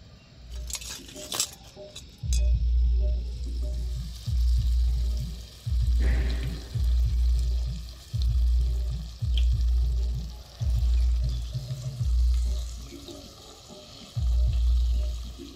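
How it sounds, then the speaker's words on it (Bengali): Bread pakoras deep-fry in hot oil with a steady loud bubbling sizzle, broken by a rhythmic series of heavy low thumps as the pieces are handled in the pan, and a few light clinks early on. "আর এইভাবে করে আমি সব পকোড়াগুলো ভেজে নেব।"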